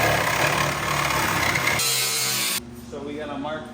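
Metal cutting with a power tool while fabricating a front tube for a pink 240 car, a loud steady grinding rasp that drops off abruptly, followed by quieter workshop noise.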